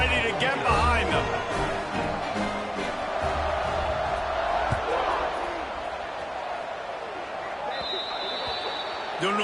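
Stadium crowd noise in a high school football video game ahead of an onside kick, a steady loud roar with cheers and shouts swelling throughout, commentary voices speaking over it.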